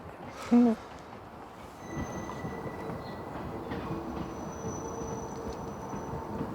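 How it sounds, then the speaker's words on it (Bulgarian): A metro train rumbles past with a steady low roar and faint high squeal, after a brief loud thump near the start. "Метрото мина."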